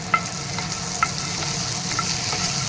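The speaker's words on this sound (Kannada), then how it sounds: "ಇದರೊಳಗೆ ಶೇಂಗಾ, ಬೆಳ್ಳುಳ್ಳಿ, ಹಸಿಮೆಣ್ಸಿ ಚೆನ್ನಾಗಿ ಫ್ರೈ ಆಗಬೇಕಿದು" Peanuts, garlic and green chillies fry in hot oil with a steady close sizzle throughout. A few light clicks of stirring come through, with no talking.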